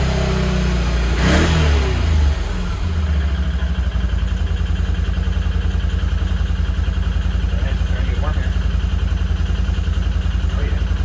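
A Can-Am Outlander quad engine with a relocated radiator and an air lock revs up briefly, then settles into a steady, loud, rhythmic idle that drones on close by.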